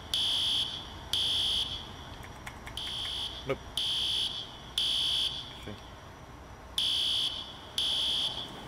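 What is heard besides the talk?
fire alarm sounding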